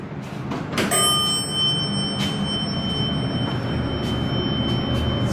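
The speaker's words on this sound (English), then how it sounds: "let's ring the bell" The alarm bell of an original 1985 Hotchkiss hydraulic elevator at St. Philips Plaza in Tucson rings out about a second in as a loud, sustained, steady tone over a low background rumble.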